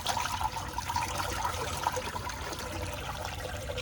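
Water pours and gurgles into a small wooden boat being deliberately swamped, a continuous rushing trickle with splashy peaks, moderately close and without speech.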